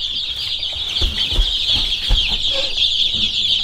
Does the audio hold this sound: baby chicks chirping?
yes